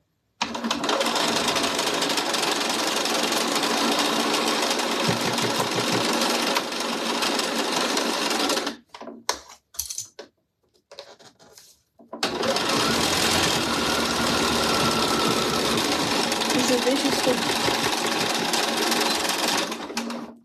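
A sewing machine stitches fabric in long, steady, close runs, with a pause of a few seconds of near silence and a few faint clicks in the middle before the stitching resumes.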